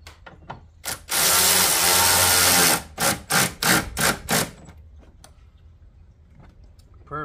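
A power tool tightens intake parts on a 2021 Dodge Durango 5.7, one sustained whirring run followed by several short, sharp bursts nearby, with quiet gaps between them.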